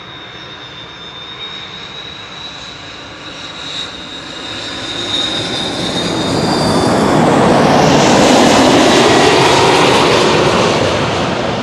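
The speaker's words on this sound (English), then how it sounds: "another A330 arriving from Edmonton" An Airbus A330 arriving at Amsterdam Schiphol from Edmonton, its jet roar building from a distant whine to a loud, broad rumble as it passes close.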